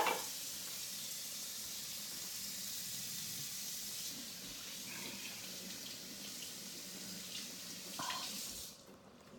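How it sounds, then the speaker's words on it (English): A kitchen tap runs steadily for hand washing after handling raw meat, a close continuous rushing splash with slight changes as hands move under the stream, cutting off near the end. "I need to wash my hands because I touched meat, raw meat."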